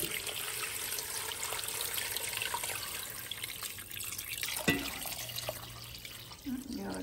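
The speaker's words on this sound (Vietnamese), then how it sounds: "Mình sẽ bỏ 1 ga lông nước vô." A gallon of water poured into a container, a running splash and trickle of liquid with a few clunks of handling, while someone talks in the background.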